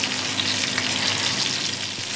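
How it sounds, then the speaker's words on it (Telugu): Tandoori chicken pieces fry in a pan, giving a steady, bright sizzle with faint crackles and occasional stirring, close and continuous with no talking. "చూస్తున్నారు కదా పీసు, ఈ విధంగా మంచిగా ఫ్రై చేసుకోండి."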